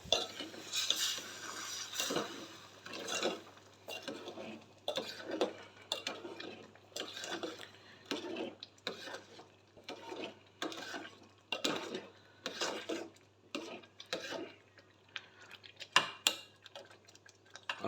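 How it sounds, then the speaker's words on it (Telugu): Semolina sheera being stirred with milk in a metal pan, a spoon scraping and clinking against the pan in a steady, irregular rhythm, close and fairly soft, with no talk. "పాలు పోసాను, బాగా కలుపుకోవాలి."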